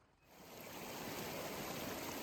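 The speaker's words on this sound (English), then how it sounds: "right away I'm coming to 2 rivers" A river crossing a Continental Divide Trail hiking path rushes as a steady, broadband wash of flowing water that swells in within the first moment and then holds, soft and fairly distant, with no voices.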